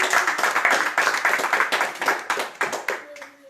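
Members of a Spanish-speaking church congregation clap for the Lord in quick, bright, rhythmic bursts, loud and close, with voices mixed in and the clapping tapering off near the end.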